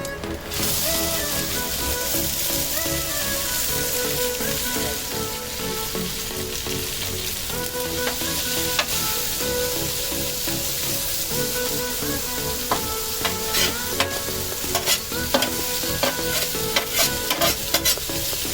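Bacon and corn sizzling loudly on a Blackstone griddle, a continuous crackling fry with a spatula scraping and tapping the flat metal surface now and then, close up and without talking.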